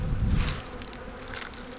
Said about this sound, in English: decent bit of bees in here